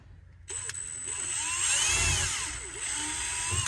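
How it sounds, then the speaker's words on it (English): A small power drill with a very small bit whines at a high, steady pitch boring pilot holes into plastic, after a brief quiet start, running continuously and close by. "now I'm going to use my drill with a really small bit, and I'm gonna make some pilot holes"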